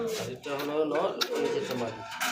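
A pair of yellow German shield pigeons coo softly up close, the low murmuring mixed with people talking nearby.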